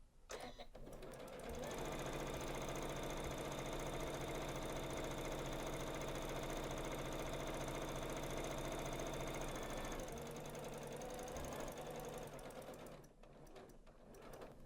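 A Janome sewing machine runs a basting line of stitching 5/8 inch from the fabric edge, a steady fast mechanical whir for about eight seconds with brief starts and stops at either end.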